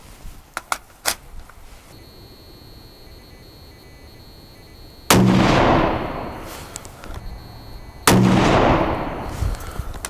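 A Ruger American Ranch 5.56 rifle firing Frontier 55 grain ball ammunition, with two loud, close shots several seconds apart, each followed by a long ringing decay, after a few faint clicks.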